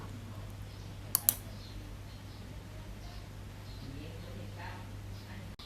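Two sharp mouse clicks land close together just after the first second, quiet against a steady low electrical hum, with no talking.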